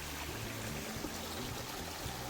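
Pallagattu waterfall near Hyderabad runs gently in the dry season, a steady soft rush of flowing water heard from close by with no other sounds.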